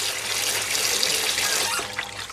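Steady, close rush of running water pouring into a hair-washing basin while a homemade shampoo is being prepared, continuous and loud throughout.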